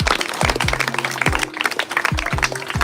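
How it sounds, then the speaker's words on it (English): An audience at a football tournament ceremony at Orchid Arena in Kolkata claps, with sharp low thumps and music-like tones in a busy, echoing indoor space, the clapping somewhat masked by the surrounding din. "Can we have a loud round of applause for them?"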